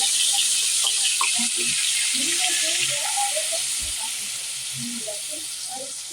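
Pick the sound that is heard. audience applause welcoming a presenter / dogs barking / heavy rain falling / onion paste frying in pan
onion paste frying in pan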